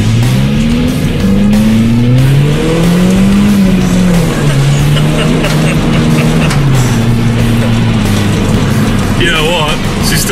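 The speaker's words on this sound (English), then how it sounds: "It's cool that you can hear the exhaust, but you can hear everything else, including bare metal smashing upon itself." A stripped-out Peugeot race project car with no carpet or roof lining is driven hard, its loud exhaust droning and swelling through the revs, heard continuously from inside the cabin with metallic rattling.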